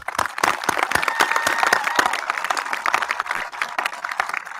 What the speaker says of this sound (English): One final applause for everybody, please.